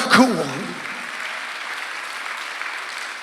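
A church congregation applauds during a Sunday worship service, a brief voice at the start giving way to a broad, even wash of clapping that carries on steadily from a large room.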